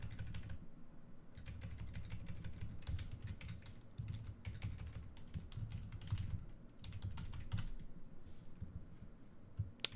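Steady rapid typing on a computer keyboard, close and continuous, with irregular clusters of key clacks and a few brief pauses over a low background hum, and no talking.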